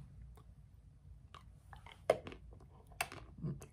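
Scotch-flavoured hard candy from a Singleton assortment being chewed close to the mic, with soft irregular crunches and a few sharper bites, no talk.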